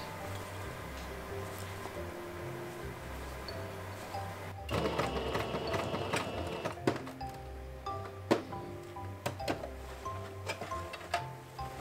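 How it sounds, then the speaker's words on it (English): A sewing machine stitches the pieces of a cosplay dress, running in quick rhythmic bursts with clicking and ticking from the mechanism that grow busier partway through, close and alone without talk. "we need to sew the top right sides together"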